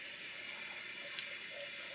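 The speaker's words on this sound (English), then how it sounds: "run it under the water, squeeze it out so that it's just moist, not super wet, moist" Tap water runs continuously over a paper towel, a soft, steady hiss of flowing water at low volume with no voices.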